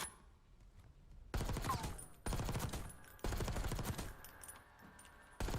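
Automatic gunfire in the video game Call of Duty comes in four long bursts of rapid shots, loud and dense, separated by short quieter gaps.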